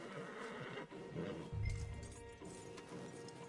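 A horse in Red Dead Redemption II lets out one loud, close neigh midway through, over a steady bed of ambient game sound.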